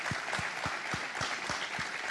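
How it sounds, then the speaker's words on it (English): An audience at a conference stage session gives a brief, moderate round of applause, a dense wash of clapping from a crowd with a few stronger low thumps standing out. "A little applause for her, please, for her massive success."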